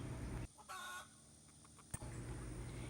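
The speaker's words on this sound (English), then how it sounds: "the Ayam Ketawa crow is a cherished cultural touchstone" An Ayam Ketawa rooster, a long-crowing breed known for a laughing crow, gives a short, broken crow with faint farmyard background around it, fairly quiet and alone.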